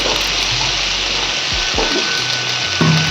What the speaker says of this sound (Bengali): আমি হালকা করে গরম জল রেখেছি সেটাই এর মধ্যে দিয়ে দিচ্ছি